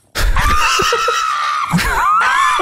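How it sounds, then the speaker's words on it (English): A pug lets out a loud, dramatic, shrill scream in rising and falling wailing bursts close by, with a brief break partway through. "I didn't know dogs could make that noise."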